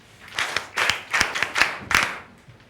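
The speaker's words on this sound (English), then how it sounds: "I'd like us, the class, to give our visitors our Washtree clap together." A school class performs a rhythmic group clap to welcome visitors: about six sharp bursts of clapping in an even beat, close and fairly loud, with no talking.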